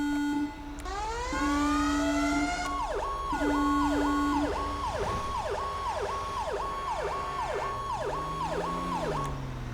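Fire engine siren from the FiveM video game, responding code 3 to a structure fire, loud and continuous: a steady low tone and rising wail give way to a rapid repeating yelp pattern, with no talk over it.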